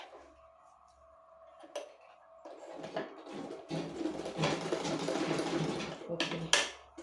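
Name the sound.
sewing machine stitching a homemade bra cup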